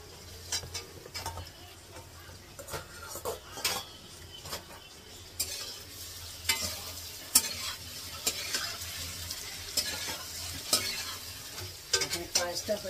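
Paneer is stirred and fried in a pan for pulao, with a continuous gentle sizzle under frequent scraping and clinking spoon strokes.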